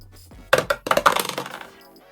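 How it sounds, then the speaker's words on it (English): A twenty-sided die is rolled, clattering and bouncing across a hard surface in a short burst of hard clicks that fade as it settles. The sound is close and clear, with no talking. "we go back to the d20 and roll twice to determine typing"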